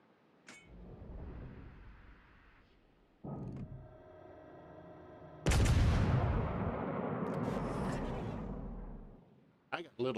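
Heavy weapons fire in a video game: several booming shots and a long, loud sustained blast, with short gaps between them, close and forceful.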